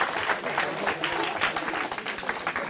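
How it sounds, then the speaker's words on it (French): An audience at a seminar talk claps for the organizers, with a sustained, even round of applause that carries on throughout and stays at a moderate level. "je voudrais juste que vous applaudissiez Vadim et Lucas ici, qui organisent"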